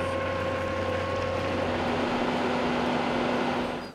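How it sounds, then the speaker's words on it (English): JT SkidMix manure agitator attachment on a skid loader, running with a steady, loud hydraulic and engine drone with tonal whine that holds throughout and eases slightly at the end. "throw the valve from mix to fold, and you're operating"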